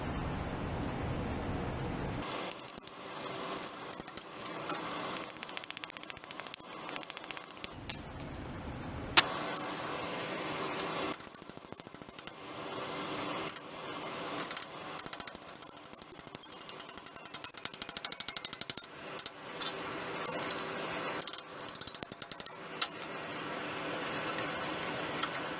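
Ratchet wrench cranking a bolt tight on a custom Indy car engine table, loud rapid pawl clicking in repeated bursts with brief pauses and metallic clanks, close by with no talk.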